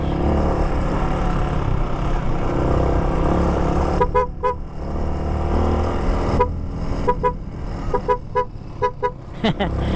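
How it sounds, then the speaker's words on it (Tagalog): Loud vehicle horns honk in several short blasts over a constant roar of traffic and crowd noise, with children shouting, on a road trip from Samal Island to Loreto, Agusan del Sur. "Makarinig ng mga busina na malakas."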